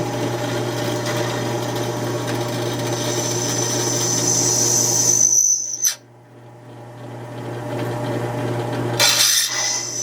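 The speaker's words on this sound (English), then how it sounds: "drill the aluminum. And this is cutting." A drill press grinds steadily through aluminum for several seconds, then cuts out abruptly, followed by a quieter hum and a short burst at the end.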